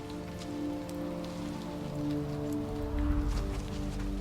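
Raindrops patter steadily on surfaces, a dense continuous wash of small taps that swells slightly toward the end, with a low musical drone underneath.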